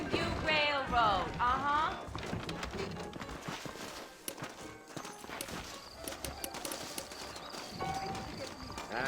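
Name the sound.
horse hooves clip-clopping, from a video game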